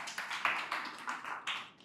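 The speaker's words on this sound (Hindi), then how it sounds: "ताली बजाइए उनके लिए" An audience at a lecture-style gathering claps faintly, a soft, scattered patter of hand claps heard from a distance with no talking.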